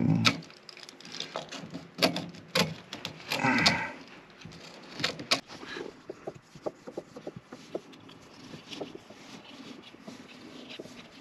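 A deburring tool scrapes and rasps around the cut end of a plumbing pipe, close-up irregular rubbing strokes, louder at first and then trailing into lighter scratches.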